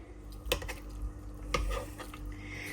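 Beans with pork ribs stirred in a pot, with a couple of distinct spoon knocks and scrapes against the pot over a faint simmering sizzle, close and brief.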